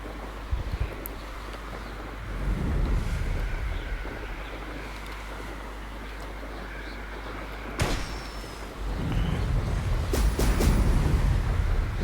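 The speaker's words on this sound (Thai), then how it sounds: "เสียงลมเต็มไปหมดเลย" Wind blows in the video game Hogwarts Legacy as a broad, steady rushing roar that swells and drops, interrupted by a couple of sharp knocks and whooshes, with no speech over it.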